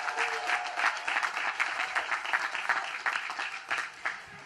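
A crowd at a university graduation applauds the newest U.S. Army second lieutenants, steady loud clapping from many hands that holds across the stretch and tapers slightly at the end.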